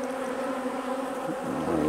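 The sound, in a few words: honey bees buzzing at a hive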